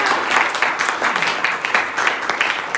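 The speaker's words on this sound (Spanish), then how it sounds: "Dale fuerte un aplauso a Dios." Church congregation applauding together, a steady dense clapping that fills the space throughout, with no voices standing out.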